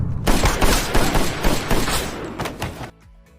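Loud, dense burst of rapid gunfire from a film shootout, rattling almost continuously for about three seconds before cutting off abruptly into near silence.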